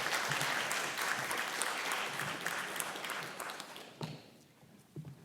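Audience at an evening lecture on Tiepolo's Milanese frescoes applauding to welcome a professor, dense steady clapping that gradually thins and fades, leaving a few scattered final claps.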